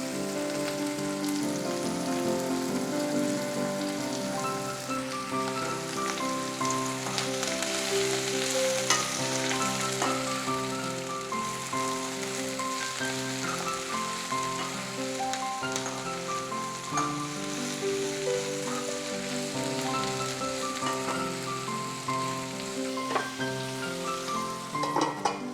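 Chopped onion and capsicum frying in a pan for a spicy mushroom pepper fry, giving a steady close sizzle that runs unbroken under faint background music.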